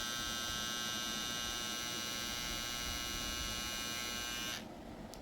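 An electric hair clipper spinning at 7,200 RPM hums and buzzes steadily and close up, then cuts off abruptly near the end.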